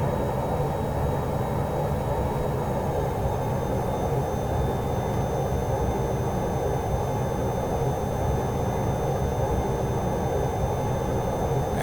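A jet aircraft engine in a flight game, likely a Me 262, throttled down, a steady dense drone with a faint high whine, constant and unbroken throughout.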